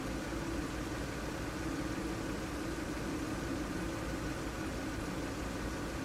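A Subaru SVX engine idles during a pre-delivery inspection, giving a steady, even hum with broad hiss, constant and unchanging, quiet with no voices.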